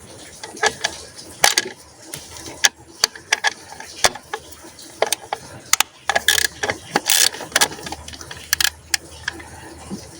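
Quick ratcheting clicks from a hand ratchet wrench removing the nuts holding a vacuum box on a JTD Multijet V6 engine come in short bursts and isolated snaps, close up, with quiet pauses between turns.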